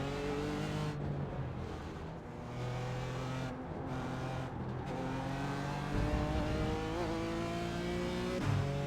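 GT4 race cars, a BMW M4 and a Porsche, lapping Sebring in iRacing, engine droning continuously close by with repeated upshifts and rising revs, occasional lift-offs and a brief tire squeal.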